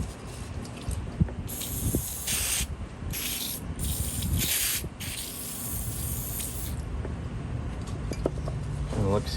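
Aerosol cleaner sprayed into a jammed Craftsman V-series ratchet in several hissing bursts, close and fairly loud, over a background of workshop noise.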